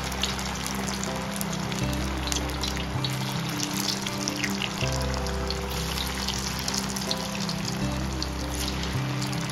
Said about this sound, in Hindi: अब यहाँ पर मैंने एक कढ़ाई में तेल गरम कर लिया है और ये जो बड़े हैं ये मैं इनमें इस तरीके से डाल दूंगी।